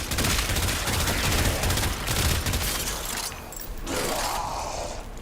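Rapid automatic weapon fire from Warframe, a loud, steady stream of fast shots with mechanical clatter for about three seconds, then a short pause before firing resumes.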